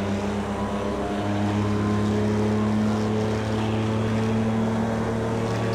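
Audi R18 endurance race car engine at Le Mans in Project Cars 2, a steady loud droning hum held throughout, with a pitch shift early on as the gear changes down to second.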